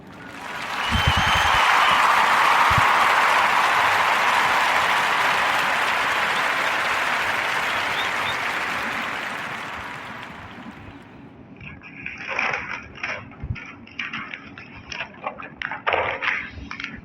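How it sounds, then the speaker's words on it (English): Applause on a narrative podcast, a broad wash of clapping that swells and then slowly fades, followed by a few scattered, uneven claps and light clatter near the end. "we're gonna clap it up and give Elijah J.B. Priestley the warmest round of Narrative Podcast applause."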